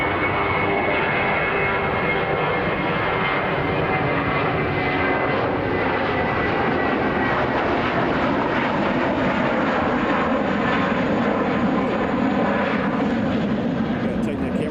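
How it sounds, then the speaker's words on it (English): An Atlas Air jet departing Chicago O'Hare International Airport, a loud continuous engine roar that swells and holds steady across the whole stretch, with voices partly under it. "we'll see Atlas Air to Wrightstown departing sometime soon"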